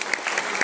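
An audience at a youth empowerment talk claps in a brief burst of dense, fairly close applause with no voices over it.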